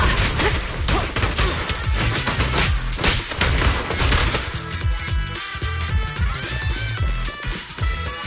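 Rapid gunfire rattles through a combat scene in the video game Zenless Zone Zero, dense overlapping shots and bursts filling the whole stretch with crashes and impacts, loud and close.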